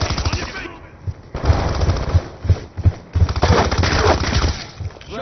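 Rapid automatic gunfire in Call of Duty: Black Ops 2, with close, punchy bursts of shots and some breaking-glass clatter, with a voice talking over the action.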